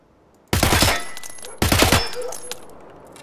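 Two short bursts of rapid automatic gunfire in the video game SPT Tarkov, loud and close, each lasting about half a second, with ringing decay between and after.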